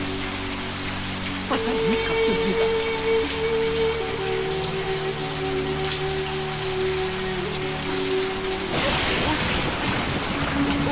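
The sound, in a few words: heavy rain falling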